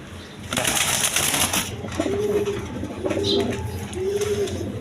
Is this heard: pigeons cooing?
yes